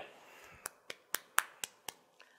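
Sharp, separate claps ring out in a Thai first-grade classroom, about six evenly spaced hits over two seconds, loud and close against a quiet background.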